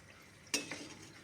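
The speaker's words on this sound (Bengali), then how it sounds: "আবার খুব বেশি এটা চাপলে ভেঙে যাবে, হালকা চাপ দিয়ে দিয়ে ভেজে নেব।" Biscuits frying in a pan over a low flame while being pressed lightly, a faint quiet sizzle broken by one sharp utensil clink and a softer tap right after.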